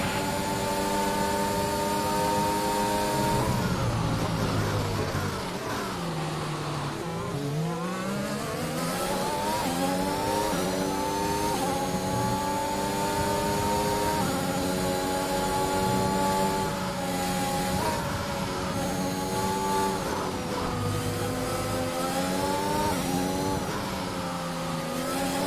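Formula 1 car racing in a video game, engine screaming at high revs with rising and dropping pitch sweeps through gear changes and braking, loud and continuous with no talk.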